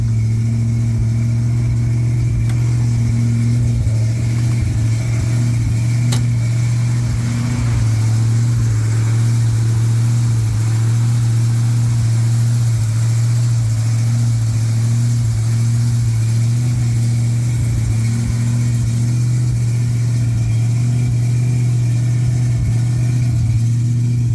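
A dream car's engine runs steadily at idle with a low, continuous droning hum and slight revving swells throughout, loud and close, with no talking.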